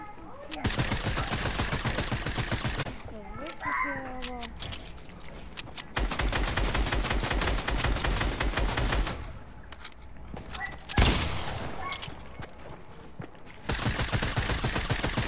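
Rapid automatic gunfire in the video game Fortnite, arriving as long sustained bursts of closely spaced shots separated by short pauses, with a player's voice heard briefly between volleys.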